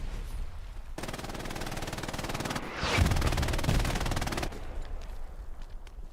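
Machine gun fire in a game battle on the Foy map: a sustained rapid stream of shots lasting several seconds, with a louder stretch in the middle, then quieter scattered shots.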